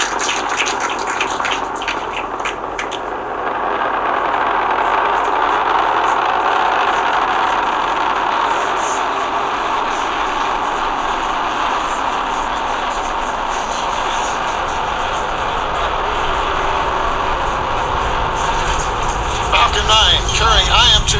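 A SpaceX Falcon rocket lifts off from pad 39A carrying the Athena lunar lander, a steady, loud broadband roar rumbling throughout while a commentator talks over it.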